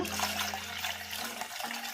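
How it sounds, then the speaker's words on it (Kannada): A steady stream of water pours from a jug into a spinach buttermilk sambar mixture, splashing continuously for a couple of seconds with no voices. "ಈಗ ಇದಕ್ಕೆ ಒಂದು ಚೊಂಬಷ್ಟು ನೀರು ಹಾಕೋಣ"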